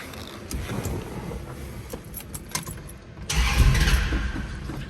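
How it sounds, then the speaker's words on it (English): A 1970 Plymouth Cuda engine cranks over with some rattling, then catches and roars to life, settling into a loud, steady idle close by. "I'm going to fire up this car."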